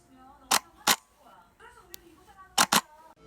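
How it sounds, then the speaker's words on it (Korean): A DSLR camera shutter set to a 1-second exposure fires twice, each time as a sharp opening click followed by a closing click a beat later. Both pairs are close and crisp, with soft background noise in between. "1땡땡의 경우 셔터는 1초 후에 닫히는 상태가 됩니다"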